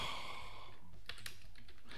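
Quick keystrokes on a computer keyboard typing a sudo command in Ubuntu LXQt 20.04, a short close burst of several clicks after a faint hum, with no talk.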